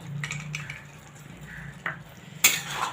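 Lauki halwa with dry fruits being stirred in a pan, soft scraping and clinks of a spoon against metal, with a few sharper knocks near the end, close and fairly quiet.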